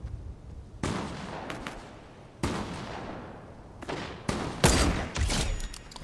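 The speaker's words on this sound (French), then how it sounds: "là-bas ça se tire pas mal dessus" Fortnite gunfire in the middle of a match: several loud bursts of shots crack out at irregular intervals, each trailing off into a reverberant tail, with denser volleys toward the end.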